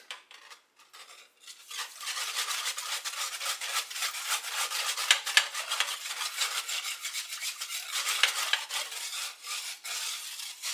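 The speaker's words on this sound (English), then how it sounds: "bring this mixture just to a boil over medium heat, stirring constantly, which is what I'm doing" A spoon stirs pickle brine in a pot over medium heat, a continuous scraping and rubbing rhythm against the metal that runs steadily for several seconds after a few brief opening strokes, close and clear with no talk.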